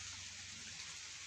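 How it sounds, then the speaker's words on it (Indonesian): Steady rain pours over an oil palm plantation on hilly ground, a dense, even hiss of drops filling the short stretch with no voices. "Dari bukit ke bukit terus diguyur hujan."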